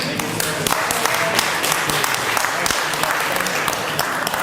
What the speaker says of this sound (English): Continue that applause.